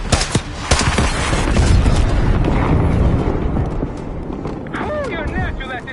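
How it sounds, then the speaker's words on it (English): Heavy booming blasts and rumbling impacts from a mortar strike in a Call of Duty Black Ops campaign battle, a loud sustained roar of explosions and gunfire with voices mixed in. "Mortar on the way."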